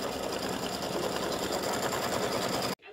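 An embroidery machine stitches a fill with a steady, dense, fast rattle, loud and close, running without pause before cutting off abruptly near the end.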